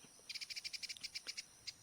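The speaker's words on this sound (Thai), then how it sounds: "นี่เสียงนก" Bird calls ring out in the morning countryside, a fast run of about a dozen high, bright chirps spaced evenly over a second, then one last chirp after a pause, moderately near above a quiet background.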